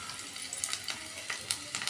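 Finely chopped garlic fries in oil in a kadai, a steady soft sizzle with faint crackles and small pops throughout, close by and fairly quiet.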